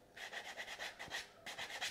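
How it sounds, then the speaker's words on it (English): Sandpaper rubbed along the edges of a goatskin (chèvre) leather card wallet, giving a close, quiet rasp in short repeated strokes, about eight to ten quick back-and-forth passes with a brief pause partway through. "I will just touch up the edges with that piece of sandpaper"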